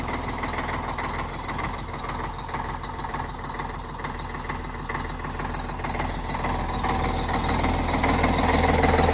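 A truck engine idles with its muffler reinstalled, a steady low rumble with exhaust hiss that grows slightly louder toward the end, heard close up with no talk.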